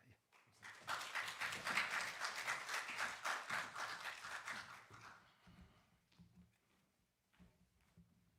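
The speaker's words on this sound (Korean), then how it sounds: "목사님 나오실 적에 한 번 더 박수하겠습니다." A university chapel service crowd applauds for several seconds, the clapping swelling and then fading away, followed by quiet room sounds.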